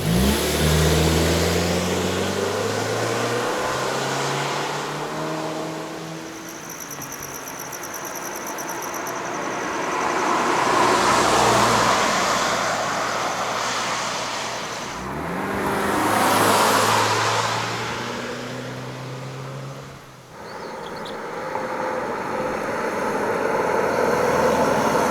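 A new Subaru Forester drives and accelerates, its mid-pitched engine rising through repeated climbing sweeps as it shifts and gains speed, loud and steady with road and wind rush throughout and no speech.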